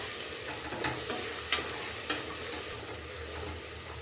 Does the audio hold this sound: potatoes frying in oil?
yes